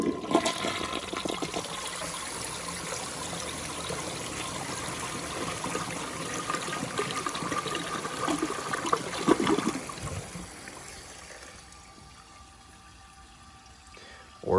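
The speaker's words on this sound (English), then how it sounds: "test, see how it does on the bowl rinsing clearance" A 1956 Case toilet flushes during a bowl rinse test, a loud steady rush of water for about ten seconds that tapers into a quieter refill trickle, with a faint click at the end.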